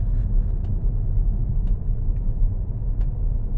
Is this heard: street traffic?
yes